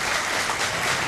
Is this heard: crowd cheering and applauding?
yes